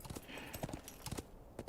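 Horse hooves clip-clop in the Lord of the Rings Online game while riding, a quiet irregular patter of soft hoofbeats over a low background.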